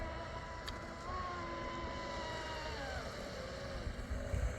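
A Castle Creations HYDRA-powered RC speedboat runs on open water into the wind, its steady motor whine rising and falling at a distance under continuous wind noise, with no talking.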